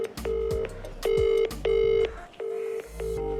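A phone dials out before a call, heard as a series of four or five steady electronic tones with short gaps, loud and close, alone without talk.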